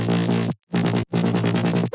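A future bass mid-bass synth runs through distortion and EQ, sounding bright and gritty as it pulses in three loud rhythmic phrases with brief silences between, no voices.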